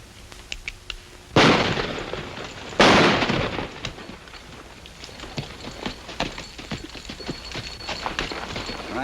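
Gunshots in an old Western set among rocks in sagebrush country: two loud, sharp cracks a second or so apart, each ringing off, followed by scattered fainter clatter.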